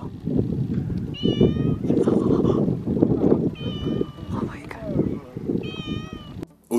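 A cat in Greece meows three times, each a drawn-out, rising and falling cry, close and clear, while a person talks throughout.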